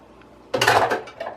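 Dishes and cutlery clatter loudly at a sink after a quiet moment, a burst of clinking followed by a couple of smaller knocks.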